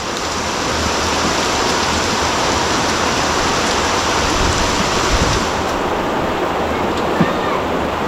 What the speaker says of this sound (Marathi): भरपूर पाऊस पडतो आहे जे थेंब आहेत ना भरपूर मोठे मोठे आहेत